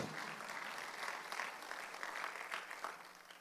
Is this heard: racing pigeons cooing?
no